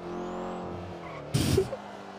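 A car races along in the video game GTA 5, its engine droning steadily, then a short, harsh burst of tire noise or impact cuts in near the end.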